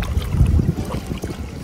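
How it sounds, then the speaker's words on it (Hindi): Lake waves wash at Bluffer's Park Beach in Toronto, a low rolling swash mixed with heavy wind buffeting on the microphone, near and fairly loud, with no talk. "पानी की जो लहरें हैं अच्छी लग रही हैं"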